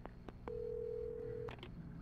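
A telephone being dialed in the Alan Wake video game: a few short key beeps, then one long steady tone, followed by two more quick beeps over a low ambient hum, faint and clear with no speech.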